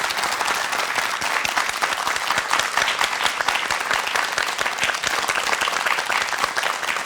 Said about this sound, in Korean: 박수로 강의 청해 듣겠습니다.